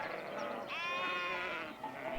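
On El Manantial, a Patagonian sheep ranch, a sheep lets out one drawn-out, wavering bleat at mid-distance, faint against a soft background hush with no talk.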